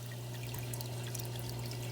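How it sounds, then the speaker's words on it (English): Water runs down the overflow tower of a big aquarium show tank as a faint, steady trickling wash over a constant low hum. "The water runs down this tower, which runs along the side of the tank."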